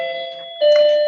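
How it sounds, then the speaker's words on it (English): A house doorbell chimes two clear, sustained electronic ding-dong tones in quick succession, loud and close with nothing else around it. "That's probably my daughter ringing the doorbell."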